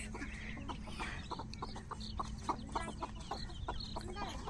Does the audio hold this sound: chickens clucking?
yes